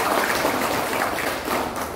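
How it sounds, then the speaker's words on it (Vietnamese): Brief burst of dense applause from delegates at the Hanoi Martial Arts Association congress, a steady wash of clapping filling the hall. "Bây giờ chúng ta một tràng vỗ tay"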